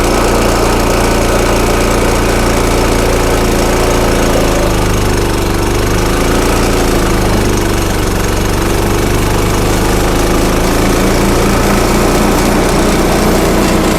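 A Yamamoto CP-4000 walk-behind wood chipper for large branches, imported from Japan, runs with a loud, steady engine drone and vibration throughout, its pitch shifting slightly as the throttle changes.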